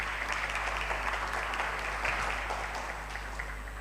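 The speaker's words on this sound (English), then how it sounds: "Please give a round of applause." Steady audience applause from a seminar crowd at an economics conference plenary session, dense, continuous clapping filling the room without letting up.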